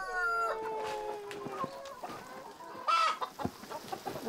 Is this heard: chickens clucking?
yes